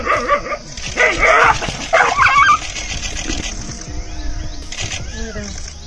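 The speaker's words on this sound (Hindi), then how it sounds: "जैसे ही कुत्ता इस चीते के सामने से गुजरता है तो चीता इस पर झपट पड़ता है" A dog under attack from a cheetah yelps and whimpers in sharp, loud, frantic cries that fade to fainter whines, heard up close.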